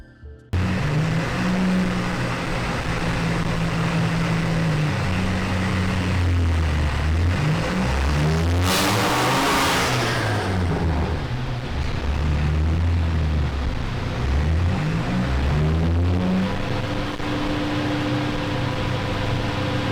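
Big turbo Abarth car on a dyno in fourth gear, its engine droning loud and steady, then revving up and down in rising and falling sweeps with a sharp whoosh midway.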